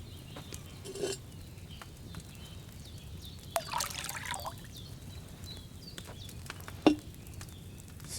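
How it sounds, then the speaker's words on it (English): Wine poured from a pitcher into an alchemy cauldron in Kingdom Come Deliverance 2, heard as a soft, intermittent trickle with a few brief splashes and clinks over a low ambient background. "First, you have to pour the right base into the cauldron."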